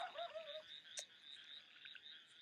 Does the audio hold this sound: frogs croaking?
yes